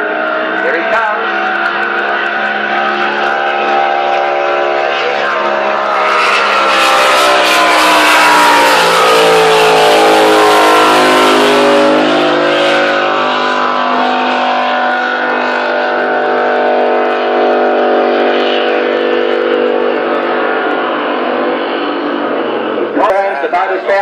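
A race car called She's the Culprit, running after an overnight engine change, screams past at 139 mph on a kilo speed run. The loud engine note rises on approach, peaks as it passes close by, then drops away, with voices heard around it.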